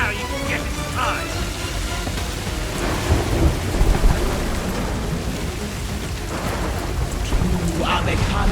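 Thunder rolls over steady heavy rain in Sea of Thieves, Calypso's lightning storm at sea, with a sharper crack and rumble midway and another swell near the end, the downpour hissing continuously throughout.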